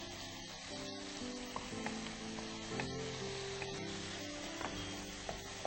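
Ground masala with bay leaf and ginger frying in a pan, giving a steady moderate sizzle with occasional crackles and faint stirring, plus a faint tonal hum in the background.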